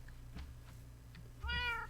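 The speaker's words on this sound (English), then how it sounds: "You hear him? Did you hear him? There's my kitty." A cat in Minecraft meows once near the end, a short rising tonal cry over quiet game ambience. A few soft blocky steps come before it.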